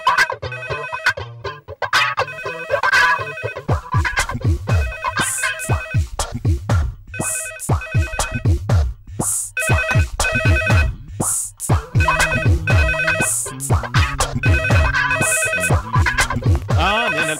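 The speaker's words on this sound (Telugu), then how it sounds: "ఫోన్." A phone rings repeatedly in a series of bursts that carry through the whole passage, loud and near, with some talk underneath.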